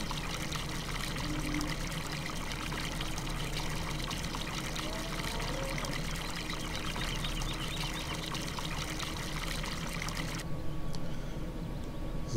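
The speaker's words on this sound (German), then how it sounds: "Dann hört ihr schon plätschern." Milk tipped out from a ramp splashes into a vat in the farming game Landwirtschafts-Simulator 17, a soft continuous trickling and plashing that runs steadily and then cuts off near the end.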